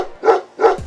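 A dog barks twice as a story sound effect, two clear, close woofs spaced evenly apart, loud and alone.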